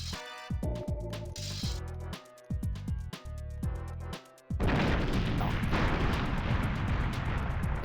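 Rapid bursts of gunfire from the Nintendo 64 shooter GoldenEye 007, a stuttering run of sharp repeated shots that gives way to a dense, continuous roar of firing or explosions, loud and with no voices.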